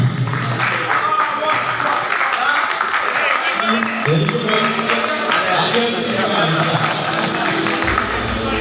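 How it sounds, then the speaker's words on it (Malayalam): Audience applause at a stage show in Thrissur, a dense steady wash of clapping lasting throughout with crowd murmur and some talk underneath. "എല്ലാവരും ഒന്ന് കൈയടിക്കണേ."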